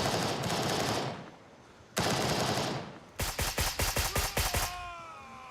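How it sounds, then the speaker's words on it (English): Video-game gunfire in Grayzone: two bursts of loud automatic fire, then a rapid stuttering volley of close, sharp shots with a fading tail, with no talking over it. "Who's shooting at me?"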